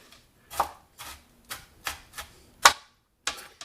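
A knife chops cured ham or bacon meant for seasoning soup on a cutting board, about eight sharp, separate chops spaced irregularly, close and crisp, with no talking.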